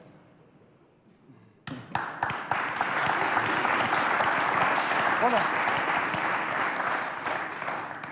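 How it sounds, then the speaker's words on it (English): After a quiet start, an audience breaks into dense, loud clapping with a few sharp individual claps up front, and a voice talks over the sustained applause. "Why are you clapping?"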